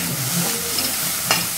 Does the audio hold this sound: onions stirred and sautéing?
yes